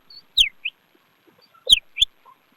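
A girl mimics the call of a drongo, the two-tailed bird, with a few sharp, high whistled chirps and short clicks in quick bursts, separated by brief pauses.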